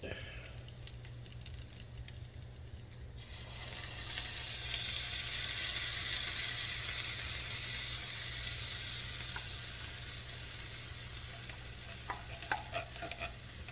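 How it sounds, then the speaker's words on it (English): Spam and onions brown in a pan with a steady, close sizzle that swells after a few seconds and holds, joined now and then by light scrapes and ticks. "Pretty much all I'm doing is just browning the Spam a little and cooking the onions till they start getting soft"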